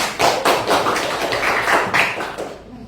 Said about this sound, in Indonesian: Coba beri tepuk tangan untuk Angga.